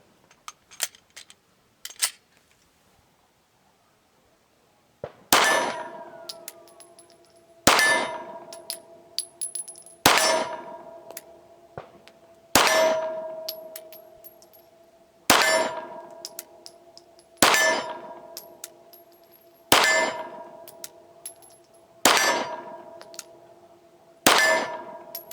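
P10C pistol firing 124 grain powder coated cast lead bullets at an outdoor target, eight sharp shots spaced a few seconds apart, each followed by a ringing metallic clang from the hit target.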